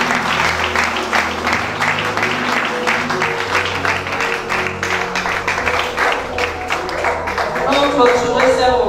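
Church congregation applauding to acclaim the Lord at a women's ministry food bank event: steady, loud, dense clapping from a large crowd, with voices calling out underneath.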